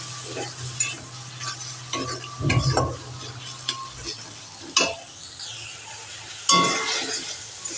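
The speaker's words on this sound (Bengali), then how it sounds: "খুব সামান্য পরিমাণে চিনি দিলাম দিয়ে ভালো করে মশলাটা কষিয়ে নেব" Spices being stirred and fried with a little salt and sugar in a pan, giving an intermittent sizzle with scraping stir strokes and a few louder clinks, close and moderately loud.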